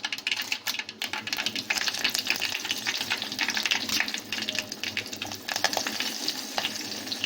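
Fennel seeds and curry leaves fry in hot oil for vegetable kurma, producing a close, continuous sizzle with bursts of crackling and spattering throughout.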